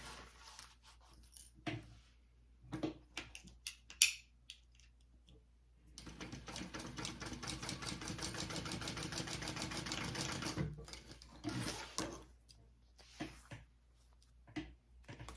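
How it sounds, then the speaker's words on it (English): A sewing machine stitching the ends of a crossbody bag together runs in one steady whirring burst of several seconds, framed by scattered handling clicks and fabric rustles before and after. "we're just going to connect the two ends here. And we're going to sew them."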